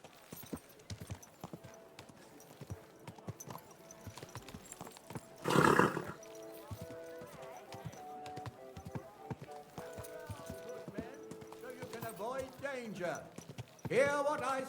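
Horse hooves clip-clop steadily in Kingdom Come: Deliverance II, with a brief loud burst partway through and someone talking over the hoofbeats.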